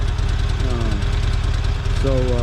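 A 2004 Buell XB12R Firebolt motorcycle idles close by with a loud, steady, lumpy throb, while a voice briefly talks over it twice.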